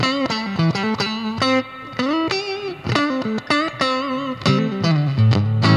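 Distorted electric guitar plays a choppy run of notes, each sharp attack trailed by a springy, splashy wash from the amplifier's spring reverb.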